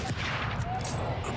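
Dense, continuous gunfire in The Evil Within 2, loud and close, with overlapping shots packed into a short burst and no clear gaps.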